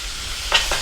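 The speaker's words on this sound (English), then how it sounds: "Now, what you do, stir that up." A spoon stirs a Blue Stilton and port sauce in a pan, two short soft scraping strokes near the end of a quiet moment.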